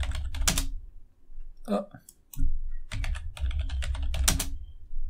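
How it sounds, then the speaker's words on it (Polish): A password being typed on a computer keyboard: quick bursts of close key clatter separated by short pauses, with a brief spoken word in the middle. "Znowu wpisujemy hasło."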